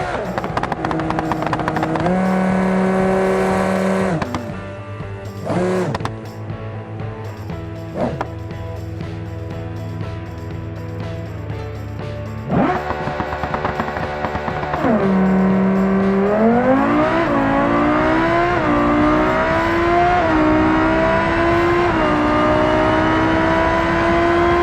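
A Civetta Scintilla drag car launches and accelerates down a strip, its engine holding a loud, steady roar before climbing through rising revs with gear-shift drops and a final sustained high-pitched pull.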